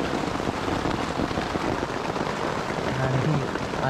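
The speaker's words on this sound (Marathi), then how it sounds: "आणि पाऊस खूप जोरात आहे." Rain falls hard on a tent while camping on the way to Harishchandragad Fort, a loud, unbroken close patter and hiss with no voices.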